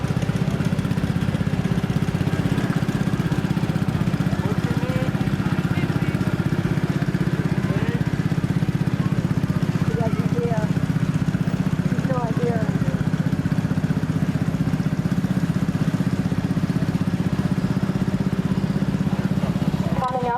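A 1979 John Deere Model 400 tractor idles past at a 2023 antique power tractor show parade in Mercer County. Its steady low engine drone holds for the whole stretch, with faint crowd talk in the background.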